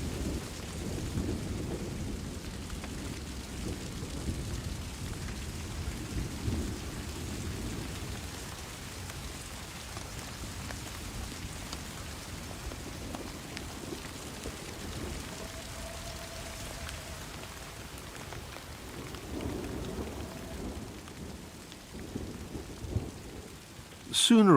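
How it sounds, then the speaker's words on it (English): Thunderstorm over a forest with heavy rain, a constant hiss of downpour and dripping beneath low rolling rumbles of thunder, steady for over twenty seconds before a sudden louder burst at the very end. "Sooner or later, the rain will stop."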